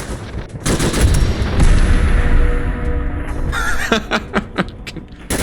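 Rapid rifle fire in Fallout 4 from a modded service rifle, with loud, close bursts of repeated shots over game noise and several distinct single cracks near the end.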